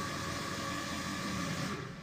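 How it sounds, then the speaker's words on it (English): Dragon roar sample slowed down with Time Machine in Kontakt, a long, thick, grinding roar held at steady loudness for two seconds, dark and noisy throughout, fading slightly at the close. "there we are, a Dragon Roar."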